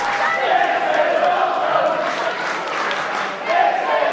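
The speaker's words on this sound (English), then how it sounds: "the crowd are going wild already" A wrestling crowd in Cardiff roars steadily at a lucha libre bout, dense cheering and shouting held at an even level for the whole stretch.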